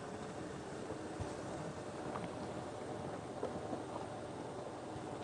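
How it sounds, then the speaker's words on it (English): Safari vehicle engine idling along in first gear at very low revs outdoors, a steady low rumble mixed with wind and broadband noise and no voices. "by keeping the revs very low and just idling along in first gear"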